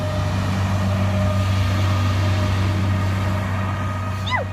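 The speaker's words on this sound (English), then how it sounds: "I hear a tractor coming down the road." Tractor rumbling along a rural homestead road, a steady low engine drone with a faint tonal hum, moderately distant and constant, ending with a brief high chirp.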